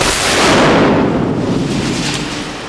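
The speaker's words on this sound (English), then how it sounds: "When you blow up a big model, there's nothing better than that." A big film miniature model blows up in a single loud, broadband blast that rumbles and decays over a few seconds.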